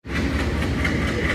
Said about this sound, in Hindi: चल चुकी है दोस्तों हमारी ट्रेन रायसिंह नगर से।